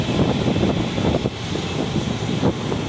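Strong wind buffeting outdoors in an industrial estate street in Ambattur, a steady loud rushing roar with gusty surges throughout, no talking.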